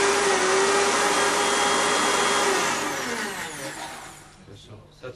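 A blender whirs loudly and steadily through tomato soup, then winds down over the last couple of seconds until it is faint. A person speaks under the noise.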